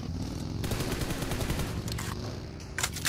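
Automatic gunfire from the PUBG Mobile video game, played on an emulator, rattles out in quick repeated bursts of sharp shots at low volume, with brief pauses between the volleys.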